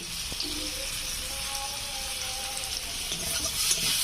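Fish frying in a pan with salt and turmeric, a steady close sizzle with light stirring and scraping on top, no one speaking.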